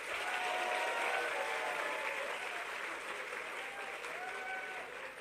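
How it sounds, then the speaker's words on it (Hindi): Sustained applause from a large audience fills a formal government ceremony hall, a dense wash of clapping that stays loud from start to finish and eases slightly toward the end. "एक बार तालियों की गड़गड़ाहट जोरदार।"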